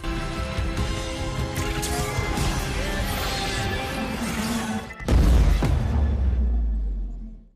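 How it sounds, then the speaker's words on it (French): A big blue explosion bursts in the Arcane animated series when a trigger is pulled, landing as a loud deep boom near the end after a dense stretch of music and effects, its low rumble swelling and then fading out. "Elle ferme les yeux, appuie sur la gâchette et déclenche une grande explosion de bleu"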